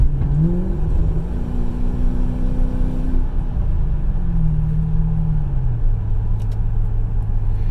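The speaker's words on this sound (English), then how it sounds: "This car does have a muffler delete." A 2002 Lexus LS430 engine rumbles loudly and steadily from a deep, unmuffled exhaust with a muffler delete, pitch rising and falling with gentle revs, no talking.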